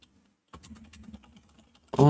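Rapid, light tapping of keys on a computer keyboard, close and fairly quiet, running for about a second and a half before a voice cuts in.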